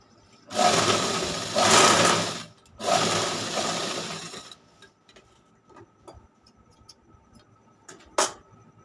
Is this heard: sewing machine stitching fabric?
yes